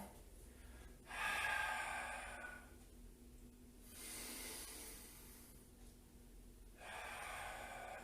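Slow breathing during a Pilates exercise at home: soft inhales alternate with longer, airy, hissing exhales, several cycles, close and fairly quiet, with no talk.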